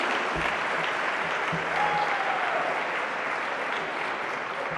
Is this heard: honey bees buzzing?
no